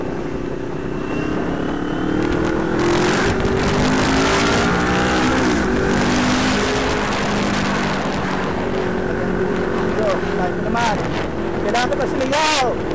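A motorcycle engine rumbles steadily and loudly throughout, with a voice talking over it and wind noise in the background.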